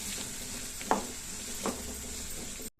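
Grated coconut and curry leaves sautéing in a pan, a steady close sizzle broken by two brief stirring scrapes before the sound cuts off abruptly.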